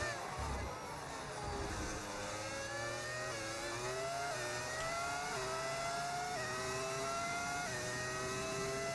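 Formula 1 cars in the racing game F1 25 at the Mexican Grand Prix, with a McLaren and a Williams in the field: a loud, continuous, high engine whine that climbs again and again through stepped gear changes.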